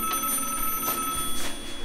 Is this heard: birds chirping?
no